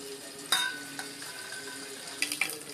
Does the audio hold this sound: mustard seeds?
yes